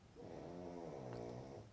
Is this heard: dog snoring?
yes